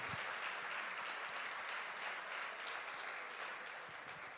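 A church congregation breaks into sustained applause, a dense and steady patter of many hands clapping at a moderate distance that holds evenly for several seconds before easing slightly at the end.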